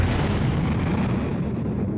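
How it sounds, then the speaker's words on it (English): Mine explosions in the shoot-'em-up video game Under Defeat HD on PS3: a dense, continuous roar of loud blasts and rumbling booms with no gaps, the high end fading out partway through. "Those mine explosions."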